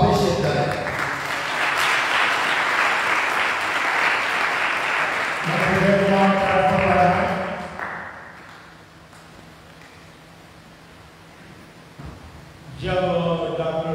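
A church congregation at a Sunday service applauds Dr. Jai Kumar, a broad sustained wash of clapping that swells then fades, with voices speaking and brief applause returning at the end.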